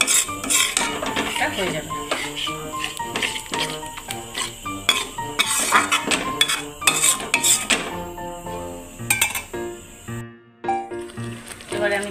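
Milk being stirred in a cooking pan for an egg malai curry, with the spoon scraping and clinking steadily against the metal over a faint sizzle, close and busy throughout, while a voice briefly speaks.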